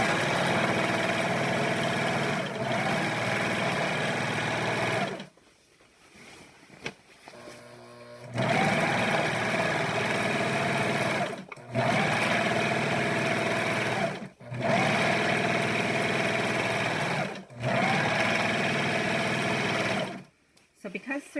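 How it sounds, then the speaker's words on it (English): Serger or sewing machine stitching the seam of a COVID isolation gown, loud rapid mechanical whirring in several long bursts separated by short pauses with faint handling noises. "So again, serge this or use your other machine and just sew it down."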